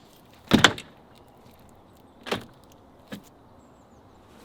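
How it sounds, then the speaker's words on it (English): A door in a house under construction is pushed shut, giving one loud close with a rattle, then two fainter knocks and clicks as it settles, each sharp and near in a quiet room. "There's just something very satisfying about closing this door."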